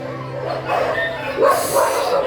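Dogs at an animal shelter housing around sixty dogs bark, yip and whimper in overlapping bursts, loud and close, with a human voice faintly mixed in.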